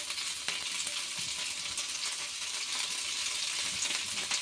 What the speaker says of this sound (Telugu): 2 టేబుల్ స్పూన్స్ ఆయిల్ వేసుకొని కొత్తిమీరని ఫ్రై చేసుకోవాలి